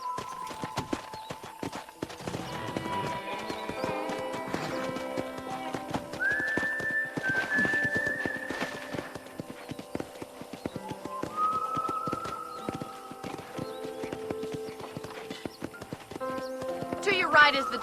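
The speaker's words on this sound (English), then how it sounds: "let's see if you can still ride a horse" Steady clip-clop of horse hooves at a trot in the video game Red Dead Redemption runs throughout, with background music and whistle-like tones over it.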